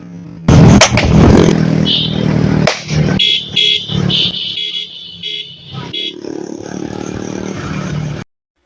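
A TVS Apache RTR 2V motorcycle with a modified exhaust revs loudly and close by, its harsh bursts rising and dropping, with horn-like tones sounding over the engine for several seconds.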